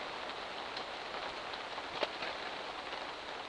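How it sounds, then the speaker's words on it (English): Steady rain hisses evenly on a surface, soft and constant, with one faint drip standing out briefly. "if it ever stops raining"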